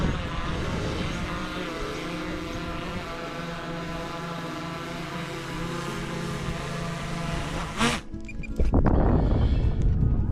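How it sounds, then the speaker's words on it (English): A drone used on a redfish fishing trip hums with a steady, close propeller whine that cuts off abruptly near the end as it lands, followed by a burst of handling noise. "take a moment to just appreciate how flawlessly Dennis lands the drone."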